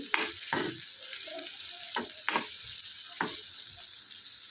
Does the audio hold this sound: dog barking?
no